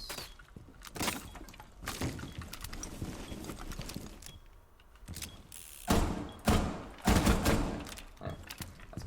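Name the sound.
walls being destroyed in Rainbow Six Siege video game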